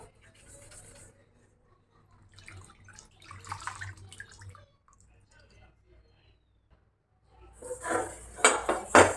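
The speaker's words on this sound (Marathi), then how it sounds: "आता आपण हे कडे दोन्ही साईडनं फुडून आणि मागून घासून घ्यायचे बरं का" A new iron kadhai is scrubbed with water, giving intermittent metallic clatter and splashing in short bursts separated by near-silence, growing louder and busier toward the end.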